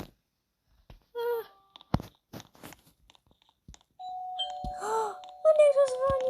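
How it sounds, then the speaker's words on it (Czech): A doorbell chimes twice indoors, a short tone first and then a longer sustained ring, with a few scattered knocks and thumps in between against an otherwise quiet room. "On někdo zvoní, to je určitě on."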